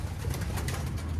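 Pigeons at a loft cooing softly in a low, rolling murmur that runs steadily throughout, with faint higher chirps above it.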